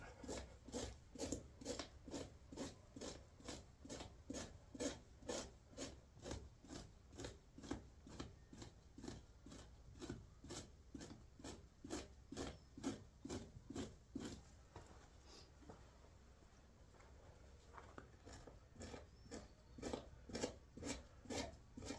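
Steady, rhythmic rasping strokes of a fleshing tool scraping a nutria hide stretched on a fleshing beam, repeated close-up scrapes at a brisk even pace with a short slower, rougher stretch midway.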